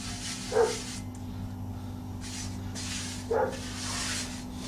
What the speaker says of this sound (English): That's my dog outside barking at the neighbor.